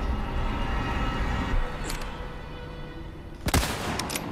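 A sniper rifle headshot in the Resident Evil 4 Remake video game, with a single sharp crack late in the clip over a dense, noisy game ambience and a few fainter hits before it.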